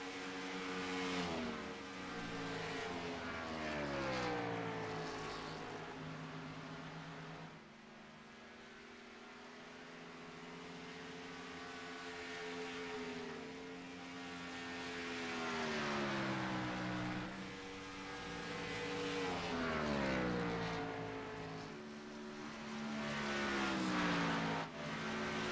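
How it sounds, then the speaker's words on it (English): NASCAR race car engines in an iRacing simulation at Texas scream at high revs in a rising and falling wail as cars pass, continuous and loud with no talking. "Listen to these engines scream."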